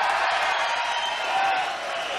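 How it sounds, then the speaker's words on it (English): A dense arena crowd roars steadily as boxer Mike Tyson makes his ring entrance at a 1986 fight against Lorenzo Boyd, a loud, continuous wash of cheering with a commentator's voice faintly underneath. "Rousing cheer for Mike Tyson, 23-0 with 21 knockouts"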